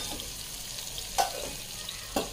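Butter with a little added oil sizzling steadily in a pan for dal makhani, a continuous close frying hiss with two brief sharper crackles.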